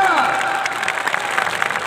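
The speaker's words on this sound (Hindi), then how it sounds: "तालियां" Brief burst of crowd clapping and cheering at an outdoor sporting club match in Punjab, Pakistan, rising under a voice for under two seconds.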